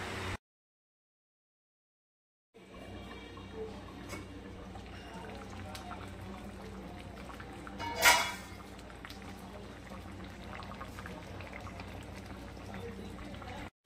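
Dry chicken with spring onion and capsicum simmers under a lid on low gas, giving a steady, quiet bubbling hiss that runs unbroken after a brief silence, with a single louder clink partway through.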